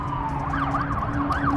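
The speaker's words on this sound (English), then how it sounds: "I've never heard that siren before." An ambulance or police car siren wails in a wobbling rise-and-fall pattern, steady and fairly loud throughout, with traffic rumble underneath and no talking.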